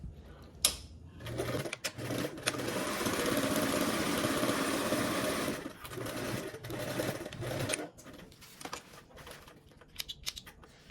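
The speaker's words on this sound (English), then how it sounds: "I'm gonna go ahead and sew along this bottom with a 1/4 seam allowance" A sewing machine stitching a quarter-inch seam along the bottom edge of a fabric piece, running steadily in one long close burst with a few shorter starts and stops before and after.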